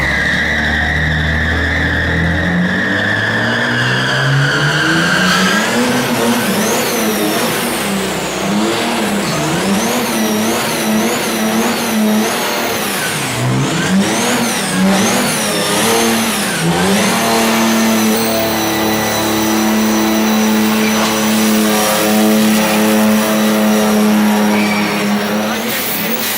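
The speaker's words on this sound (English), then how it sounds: "Still top 3 favorite burnouts in the Donut Garage." A car doing a burnout in a garage setting, engine revving hard and holding high while the tyres squeal and skid continuously, loud and close, the pitch climbing and dipping with each throttle change.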